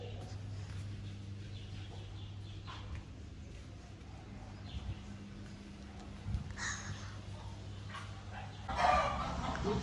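Farmyard ambience with chickens, goats and cows: a steady low hum, scattered faint clucks and animal calls, and a brief louder burst near the end.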